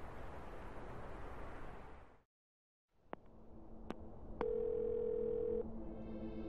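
Telephone tone heard while placing a call, with a loud steady hum that cuts to silence, then a few sharp clicks and a sustained beep tone over a low background hum.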